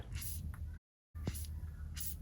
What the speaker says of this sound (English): We are going to spray the jam nut as well as the top castle nut of the tie rod.